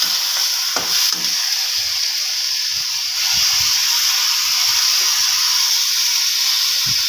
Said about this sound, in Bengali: ডালটা বেজে নেব ভালো করে